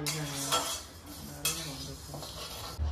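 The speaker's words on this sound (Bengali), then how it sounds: "এই যে বাবা ডালিয়া করবো, মুগের ডালটা ভাজছি।" A utensil stirs moong dal roasting dry in a pan, giving a few scraping, rattling strokes and light metallic clinks over a faint sizzle, close and quiet.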